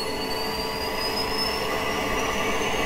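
The APU of a T-1 Hawk jet in DCS World spools up, a loud steady turbine roar with a thin high whine slowly climbing in pitch, close and constant.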